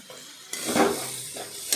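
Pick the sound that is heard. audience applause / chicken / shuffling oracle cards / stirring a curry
stirring a curry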